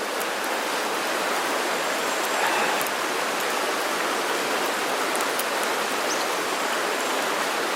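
Bacon sizzles in a cast iron pan with a dense, continuous crackle and scattered sharp pops, close and steady with no voices.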